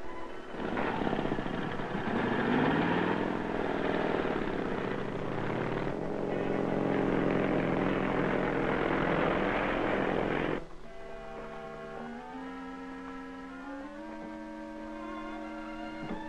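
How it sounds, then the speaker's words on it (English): An engine drone, likely an approaching motorcycle in an old film serial, swells under dramatic orchestral music before the music takes over with sustained tones. "Sounds like a motorcycle coming."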